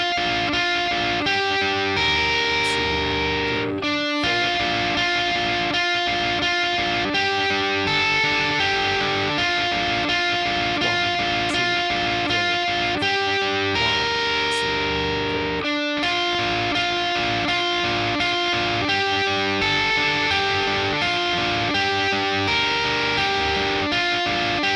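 A distorted electric guitar solo from a song plays continuously over a backing track, sustained overdriven notes and quick runs at steady loudness, with no voices.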